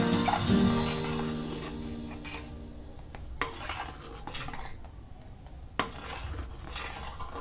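A spoon stirs mango delight mixture in a pan on a stove just turned off, with scraping and rubbing against the metal and occasional sharp clinks, close and steady, with no talk.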